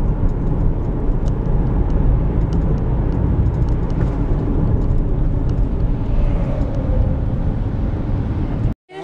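A car on a drive into work, with steady road and engine rumble inside the cabin throughout, ending with a brief cutoff.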